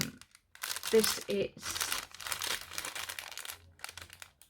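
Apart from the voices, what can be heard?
crinkling packaging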